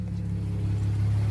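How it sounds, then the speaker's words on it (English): Infiniti Q50 twin-turbo engine fitted with BMS intakes, heard as a steady, loud low engine drone with a deep rumble, sustained and even with no clear rev change, no voices. "it gives you a lot of turbo noise"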